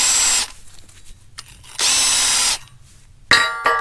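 A power drill spins a large round wire brush inside the bushing bore of a Caterpillar D2 crawler tractor chassis being rebuilt, two long steady whirring bursts separated by quieter scraping, then a short sharp burst of brushing at the end.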